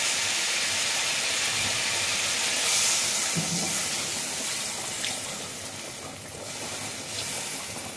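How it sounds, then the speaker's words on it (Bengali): Water poured into sizzling fried spice paste for a prawn curry with ridge gourd, potato and brinjal gives a broad, steady hiss that slowly eases, with faint pan sounds underneath. "এর সঙ্গে মশলাটা পুরো কষানো হয়ে গেছে, এবারে আমি জল দিয়ে দেবো।"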